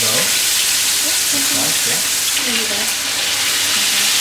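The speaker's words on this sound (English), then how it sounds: "we're just going to take that and just drop it in, should sizzle away" A chicken drumstick dropped into hot oil sizzles and crackles steadily for Malaysian nasi lemak, a loud continuous fry close up, with a voice briefly speaking over it.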